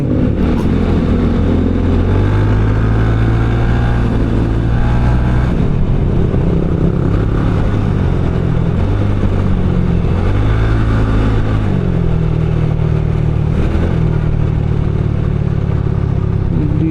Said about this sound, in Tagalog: Medyo medyo wala lang sa tono tong motorsiklo natin kasi ewan ko, so parang sinisinok siya minsan